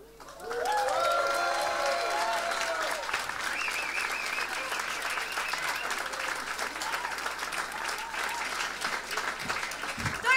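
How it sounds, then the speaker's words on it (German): An audience at the live comedy show Nightwash Live applauds, with loud, sustained clapping that fills about ten seconds. "Könnt ihr ruhig nochmal klatschen."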